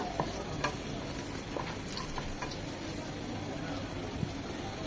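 Chopped garlic and chili powder fry in oil for moong dal, a continuous close sizzle with scattered light spatters and stirring clicks throughout.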